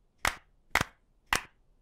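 Three sharp, evenly spaced claps ring out in a quiet cartoon classroom, children clapping in time as a music lesson with no talking.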